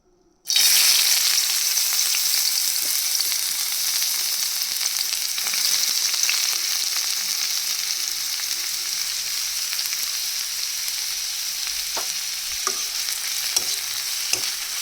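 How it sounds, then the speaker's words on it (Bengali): Onions drop into hot oil in a pan and sizzle loudly and steadily, with scraping taps of a spatula stirring them at intervals, close up and without talk. "তেলটা তাতার পরে আমি প্রথমে দেব পেঁয়াজ"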